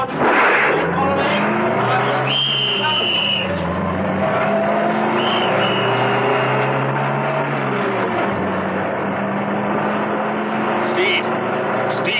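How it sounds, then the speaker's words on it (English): An armored car engine roars continuously at a steady loud drone, with shifting engine pitch suggesting acceleration as it drives off, heard throughout. "Steed started her up, and they roared off."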